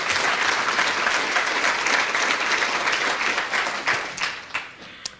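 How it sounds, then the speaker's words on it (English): An audience at an education talk on young readers' results claps for itself, a steady, dense wash of applause that thins out and fades toward the end, with a few sharper single claps at the close. "So clap for yourselves."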